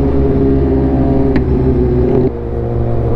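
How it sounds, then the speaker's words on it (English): A motorcycle engine at an indoor motorcycle show runs loud and steady with a deep, continuous rumble, then drops in pitch and level partway through as it shifts down. "Go on, downshift again, downshift again."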